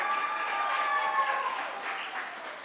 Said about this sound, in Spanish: Un aplauso para Gabriel, que ayer se comprometió.